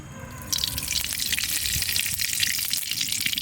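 Fennel seeds hit hot mustard oil in a pan and burst into a loud, steady, close sizzle that starts abruptly and continues without pause.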